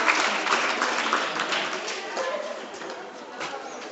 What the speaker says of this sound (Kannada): ಜೋರು ಚಪ್ಪಾಳೆ ಮೂಲಕ.